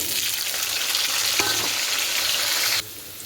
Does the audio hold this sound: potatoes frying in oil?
yes